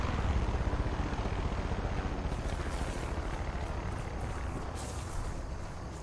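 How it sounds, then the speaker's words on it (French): A helicopter circles the player in Far Cry 5, its rotor a steady, broad whooshing drone that holds near and loud for several seconds with no voices over it. "À part qu'il y a juste un putain d'hélico qui passe autour de moi."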